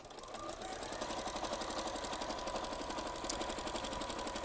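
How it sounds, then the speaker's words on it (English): A sewing machine stitching through quilt wadding runs steadily with a fast, even mechanical whir and rapid needle rattle, close and continuous after a brief start-up. "you may have to increase the stitch length a bit to get some speed going on when you're sewing over the wadding like this"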